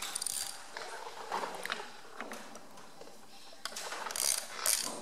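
Screws are undone on the injection pump of an MF135 tractor, giving faint clicking and ratcheting taps of a tool working in short bursts, close by and quiet against a still background.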